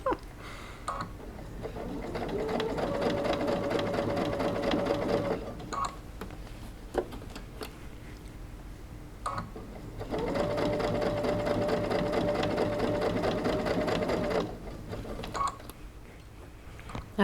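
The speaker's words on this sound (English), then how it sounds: "So we're just gonna sew all the way around." A sewing machine stitches around a fabric bucket hat in two steady runs of rapid whirring, close and fairly loud, separated by a brief pause filled with small handling clicks.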